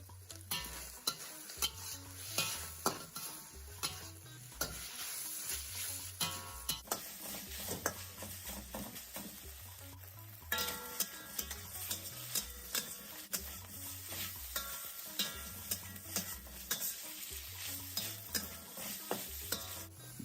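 Meat fries in a pan and is stirred, a soft, continuous sizzle with repeated utensil taps and scrapes against the pan, with steady background music and no talking.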